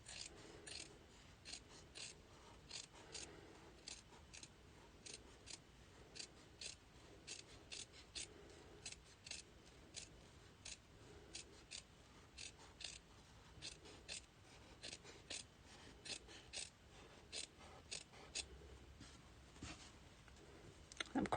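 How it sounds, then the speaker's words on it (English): Scissors snip an adhesive sheet to fit inside a carrot-shaped pouch piece, a long run of quiet, regular close cuts repeating about every second with faint rustling paper between them. "So I'm going to just cut this slightly smaller to fit inside"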